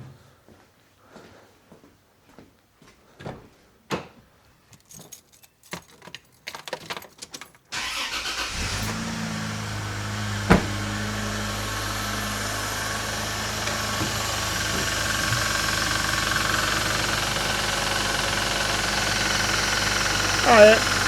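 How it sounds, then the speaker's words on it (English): A Toyota Land Cruiser FZJ105 with a leaking transmission cooler hose: quiet clicks and handling noises, then the engine cranks, catches and settles into a steady, loud idle that runs on, with a brief louder rev near the end. "So let's start the engine and see what we're dealing with."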